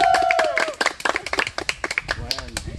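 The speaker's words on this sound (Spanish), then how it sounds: "Bueno, y un aplauso le dimos a la gente." A small group claps briskly in uneven bursts at a festive party game, close and lively, with voices calling out over the clapping.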